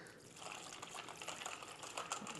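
Tap water runs steadily into a container to make ice water for chilling cooked udon noodles, a soft continuous splashing rush with no talk over it.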